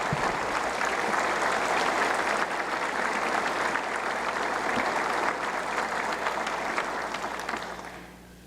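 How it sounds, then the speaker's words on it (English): Full, dense applause from a large audience at a state address, loud and sustained for several seconds before fading out at the end, with no talking over it. "Let's give them a round of applause."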